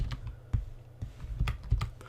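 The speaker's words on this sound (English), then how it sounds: "I'm gonna type boolean again." Code is typed on a computer keyboard, a quick irregular run of close, crisp key clicks with a few heavier strikes, with no talking.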